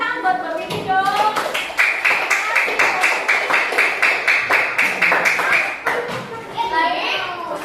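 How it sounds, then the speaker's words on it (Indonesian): Schoolchildren in a classroom clap in a quick, regular rhythm for several seconds, loud and close, with children's voices and a teacher's speech before and after the clapping. "berikan tepuk tangan buat Mbak Vivi dong"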